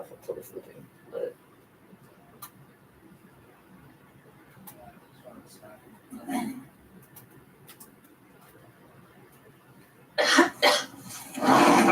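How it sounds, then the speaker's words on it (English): Someone coughs: a few faint, isolated coughs spaced well apart, then a loud burst of harsh coughing near the end. "That cough? Definitely COVID."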